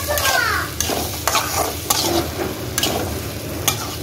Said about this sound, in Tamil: இப்போ அந்த எண்ணெயை சேர்த்துட்டு நல்லா இதை ஃப்ரை பண்ணிடுங்க.